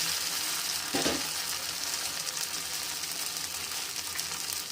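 Small pieces of idli fry in hot oil in a pan for podi idli, giving a loud, continuous close-up sizzle, with a brief stirring scrape near the start.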